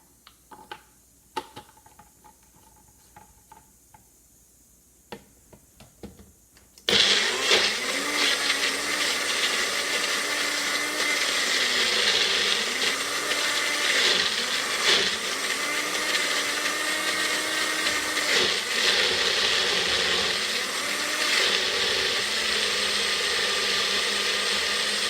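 After a few seconds of quiet clinks and handling noises, a kitchen blender starts abruptly and runs loudly and steadily, mixing pav bhaji ingredients with water, its pitch wavering slightly as the load shifts.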